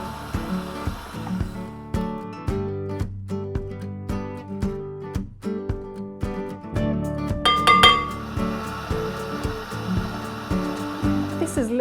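Butter and icing sugar whisked together for buttercream in a bowl, giving rapid repeated clinks and scrapes against the bowl, close and fairly loud, with a brief whir partway through.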